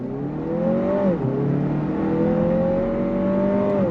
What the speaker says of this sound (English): We're gonna go on throttle. On throttle, here we go.